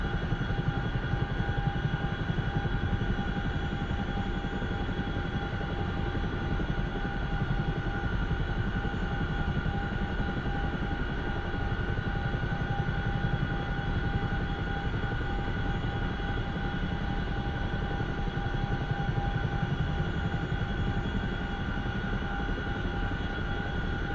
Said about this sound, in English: I love the sound of this aircraft.